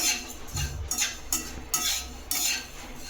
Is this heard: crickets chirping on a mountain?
no